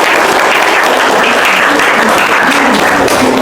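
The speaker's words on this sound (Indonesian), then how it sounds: "Oke, tepuk tangan dong buat kita semua." Loud, dense audience applause fills the whole moment, a steady wash of clapping hands from a classroom group, continuous and close with no voices standing out.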